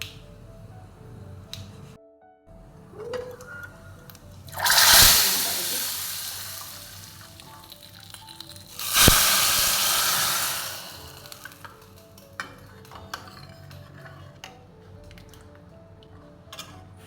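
Cumin, curry leaves, dry red chillies and asafoetida hit hot oil as a tempering for hotel-style South Indian sambar. Two loud bursts of sizzling rise sharply, then fade away into quieter kitchen background noise.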